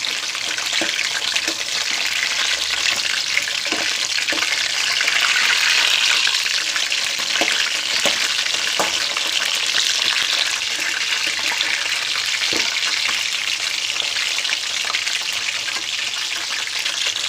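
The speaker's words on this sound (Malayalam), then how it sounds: "ഇപ്പോൾ അതിൻ്റെ ഒരു വശം വഴന്നു വന്നിട്ടുണ്ടെങ്കിൽ നമുക്കതെല്ലാം ഒന്ന് തിരിച്ചിട്ട് കൊടുക്കാം." Brinjal pieces fry in a pan with a constant loud hiss and sizzle while being turned over, with small scraping knocks scattered throughout and no voices in the clip.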